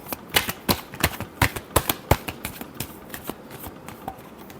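Tarot cards being shuffled by hand, a run of crisp, papery riffles and slaps in an irregular rhythm, close and moderately loud with no voices.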